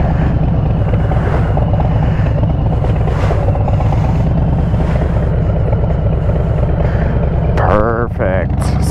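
A motorcycle idles steadily, then its engine note rises as the clutch is eased out slowly in a parking lot, the rider's voice heard over it.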